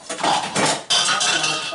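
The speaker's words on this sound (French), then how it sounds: "Et là je prends mon plat." A baking dish for a raspberry far breton being picked up among other dishes in a kitchen, loud close clinks and rattles of crockery and cutlery in quick clusters, no speech.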